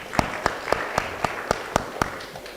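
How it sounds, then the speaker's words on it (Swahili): An audience at an evening session of a mining, oil and gas forum claps in steady unison, about eight sharp, evenly spaced beats close together. "Makofi ya Esther."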